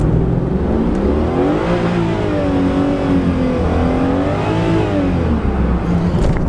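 A Jaguar XJ8 Vanden Plas engine revs hard toward 6,000 RPM, a loud, sustained close-up roar with rising and falling pitch sweeps as the throttle is held, without driving forward.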